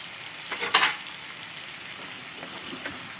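Duck and freekeh frying in a pot, with a steady low sizzle broken by one or two quick, louder stirring scrapes near the start, then settling back to a soft, even hiss.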